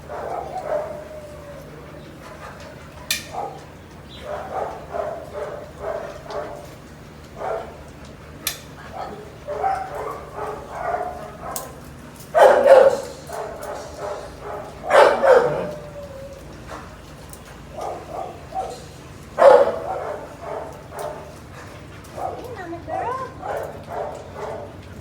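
A dog barks repeatedly in a shelter kennel run, with sharp, loud barks and yips scattered over the stretch, some close and some further off, while people talk through much of it.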